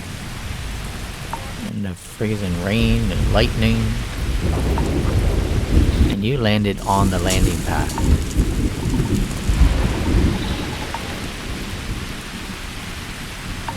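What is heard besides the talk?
freezing rain and thunder on a planet in the video game Starfield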